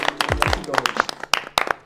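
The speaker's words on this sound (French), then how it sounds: "On peut l'applaudir, Lali." A small group applauds a participant in a dating game show: a few scattered, uneven claps close by, mixed with voices talking and laughing over them.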